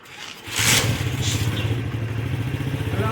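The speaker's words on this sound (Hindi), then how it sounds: "मोटरसाइकिल दूसरी चला दो, इसकी हालत देख लो क्या होगी।" A motorcycle starts up and settles into a steady, close, rumbling run with some clatter and scraping at the start, no talk over it.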